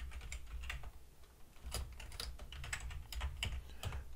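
Steady, fast typing on a computer keyboard, with quiet clustered key clicks throughout as code is written for a PLC lesson, close and alone without talk.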